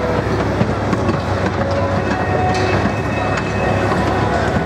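The Big One roller coaster at Blackpool Pleasure Beach rumbles past nearby, a loud continuous roar of wheels on track with rattling clatter that holds steady throughout.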